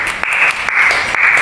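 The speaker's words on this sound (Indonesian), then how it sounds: "beri tepuk tangan terlebih dahulu" A primary school class claps for a student group in an Indonesian lesson, a loud, rhythmic pattern of group claps repeating in regular pulses over a steady background tone.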